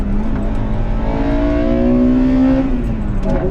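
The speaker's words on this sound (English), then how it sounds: "That four-cylinder honestly sounds amazing." A 1998 Acura Integra Type R four-cylinder engine revving near 6,200 RPM, a steady high-pitched wail with a rising, sustained tone, heard close and loud with no talking.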